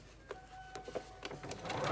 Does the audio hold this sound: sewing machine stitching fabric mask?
yes